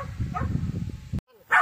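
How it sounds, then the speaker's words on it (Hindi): A dog at an animal agility show gives a few short barks and yips, followed by a brief pause and then one more clear bark near the end. "ये दूसरा कुत्ता है, आप देखें।"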